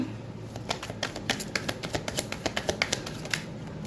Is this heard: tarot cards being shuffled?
yes